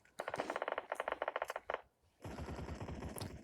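Rapid automatic bursts of submachine gun fire in a first-person shooter video game, several quick stuttering volleys close and loud, then a brief gap before a denser sustained barrage.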